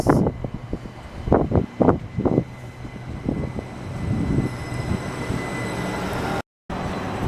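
A Class 387 Great Northern electric train, eight coaches, pulls out of Stevenage station bound for London King's Cross, a low rumbling rolling noise with a few clunks early on, then a steady mid-distance drone that fades slightly.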